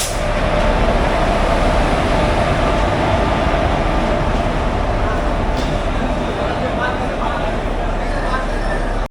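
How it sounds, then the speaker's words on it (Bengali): The Dhanbad Ranchi Dumka Intercity train rolls into platform 1 of a station at night, a steady loud rumbling roar of wheels and carriages that holds throughout and cuts off at the end. "তখন ধানবাদ রাঁচি ডুমকা ইন্টারসিটি ঢুকছে।"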